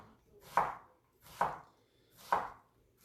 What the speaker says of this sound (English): Really helpful to have a sharp knife.